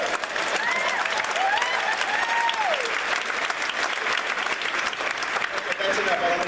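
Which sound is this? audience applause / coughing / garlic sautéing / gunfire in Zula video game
audience applause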